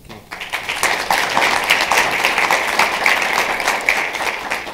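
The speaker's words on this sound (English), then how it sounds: "Yes, we can clap." A summit audience on the cost of fatherhood in Los Angeles bursts into applause, a crisp, close-sounding stream of many hands clapping that starts sharply and stays steady and lively for several seconds.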